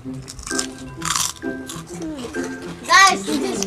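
Prawn crackers crunch loudly at close range in repeated bursts, with people talking over the chewing and a bright, shrill voice cutting in near the end.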